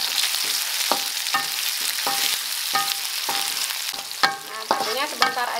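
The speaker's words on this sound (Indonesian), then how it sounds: "Sekarang kita goreng cabenya." Chili peppers sizzle in hot oil for Balinese sambal, a constant crackling fry broken by repeated scraping strokes of a spatula stirring the pan at close range.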